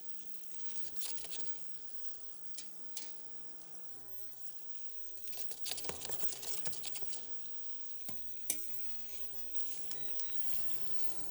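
Pumpkin gnocchi sear in melted brown butter in a pan, giving a soft, fairly faint crackling sizzle with occasional sharper pops and stirring clicks, no voices.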